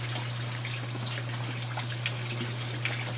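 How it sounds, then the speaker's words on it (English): Water siphoning out through a DIY aquaponics T-siphon, a steady gushing trickle over a constant low electrical hum, close and even for a few seconds. "Siphoning right out."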